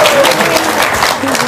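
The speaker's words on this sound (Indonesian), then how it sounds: "Tepuk tangan dong." A crowd applauds loudly, a dense wash of clapping that fills the entire short moment.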